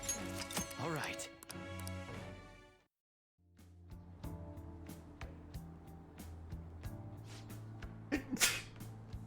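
A single sneeze from a character in the game Persona 5 Royal, heard among background music and game sounds at a fairly quiet level.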